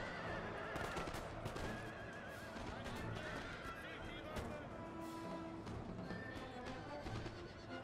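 A horse neighs loudly amid a Napoleon Total War battle, its whinny rising over a busy mix of hooves, scattered gunfire and someone talking.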